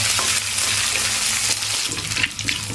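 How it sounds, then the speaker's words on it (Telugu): Soaked, washed snails fry in hot oil with a loud, dense sizzle and bubbling crackle that runs steadily, close and with no speech. "ఇలా నూనె వేడెక్కింది కదా నచ్చలు నత్తలు వేగాలి"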